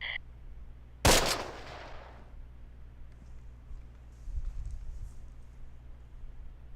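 A bazooka team fires in the Close Combat wargame: one sharp, loud blast with a brief decaying tail, followed by quiet ambience and a fainter rumble a few seconds later.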